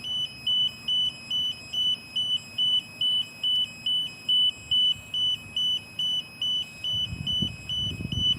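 A walker's electronic alarm beeps over and over in an even rhythm, about twenty sharp high-pitched pulses, loud and close, with some handling noise near the end.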